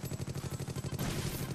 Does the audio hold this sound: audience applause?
no